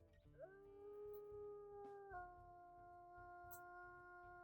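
A single long, deep howl from a dog or wolf holds a steady, sliding pitch with rich harmonics, then shifts tone partway through and carries on at moderate volume, with no talk over it.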